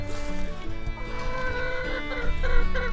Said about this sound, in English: I need help with a broody.